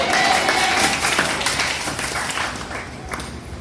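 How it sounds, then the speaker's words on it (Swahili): A church congregation applauding, a dense wash of clapping that starts strong and gradually thins out, with faint voices mixed in. "Niliwasa mtamchapia makofi makubwa."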